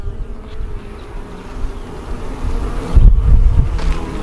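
Honey bees drone and hum around an opened hive heavy with honey-filled frames, a steady close buzz mixed with low wind rumble that swells louder in the last second or so.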